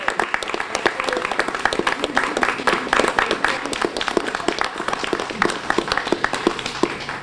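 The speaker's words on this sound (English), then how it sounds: "can I just get a round of applause for Kelly, too, because she did such a great job." Steady applause from an audience at a community service event, dense continuous clapping with sharp hand claps throughout, moderately close and sustained without a break.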